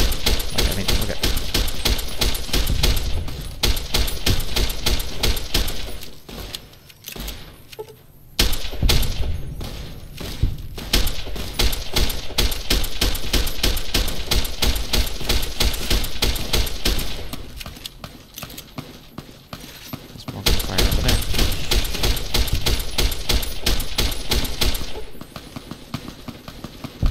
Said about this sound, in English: Normally you don't also start hearing gunfire from over here though.